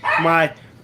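A single sharp, harmonic dog bark or yelp lasting under half a second, close and loud, followed by quiet.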